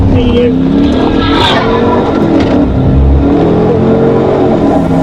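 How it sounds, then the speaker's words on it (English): On a highway, a car speeds loudly past a police cruiser, its engine roaring and shifting pitch as it passes close by, with a voice talking over the noise. "A car zooms past a police cruiser on the highway."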